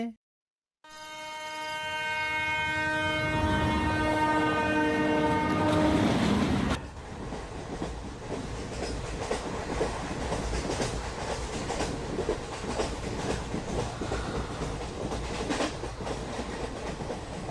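A train horn blares loudly and steadily for several seconds, then gives way to the continuous rumble and rhythmic clatter of the train running on the rails as it nears a station.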